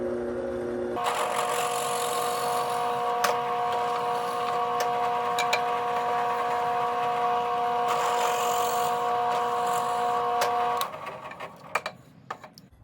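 A drill press motor hums steadily at a constant pitch for several seconds with faint grinding and clicks as it drills holes in wood, then winds down, leaving scattered taps.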